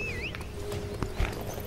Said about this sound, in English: So that's the Wu horse.